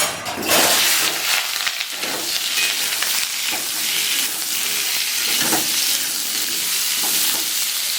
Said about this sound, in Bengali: তো পটল আর আলুগুলো ভেজে নিচ্ছি